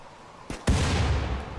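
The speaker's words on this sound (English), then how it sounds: "Oh, that was close, a grenade." A grenade goes off in RimWorld. A brief sharp crack comes first, then a loud close blast with a rumbling tail that carries to the end, no talk.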